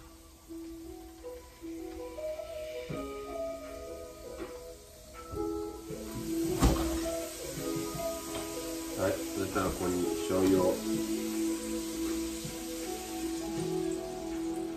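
Food sears in a hot pan with green vegetables, giving a steady, soft crackling hiss with scattered pops while a person talks over it.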